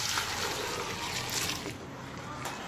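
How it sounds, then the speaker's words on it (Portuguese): Water is poured into a homemade aluminium cleaner mix of dissolved sugar, baking soda and salt, producing a continuous close trickling and splashing pour that eases off slightly near the end. "Agora, vamos colocar o resto da água todinho"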